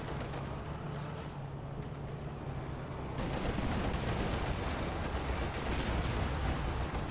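Tank cannon and gunfire from a Company of Heroes 2 battle rumble as a dense, continuous wash of distant explosions and shots, growing louder and busier partway through.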